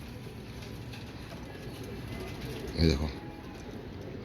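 Pet pigeons at a home loft in South Asia give a short burst of cooing near the microphone, standing out briefly over a steady background murmur while someone talks.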